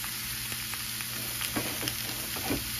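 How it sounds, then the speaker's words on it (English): Beef short ribs sear face down in a hot skillet, a steady sizzle and crackle with small pops and a few soft stirring bumps, close and moderately loud with no talk. "So you want to put them in your hot skillet, face down just like this."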